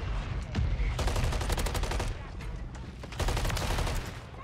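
Shotgun fire from enemy players in Call of Duty Modern Warfare 3 comes in dense, rapid bursts, one volley after another, loud and close with only short gaps between them.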